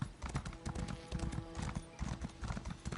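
Horse hooves clip-clop in a quick, steady rhythm as a mount trots along in the video game Elder Scrolls Online, close and fairly soft with no talk over it.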